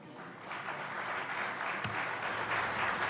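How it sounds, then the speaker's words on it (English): An audience at a formal diplomatic event breaks into applause after a quoted speech, a dense, steady clapping that continues throughout without any voices. "immediately everyone applauds"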